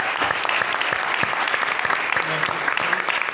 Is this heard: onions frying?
no